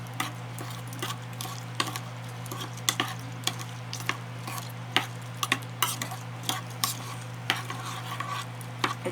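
Calamansi juice and brown sugar marinade for milkfish steak being mixed in a bowl, a spoon tapping and scraping in a quick, irregular rhythm over a steady background hum, close and fairly quiet.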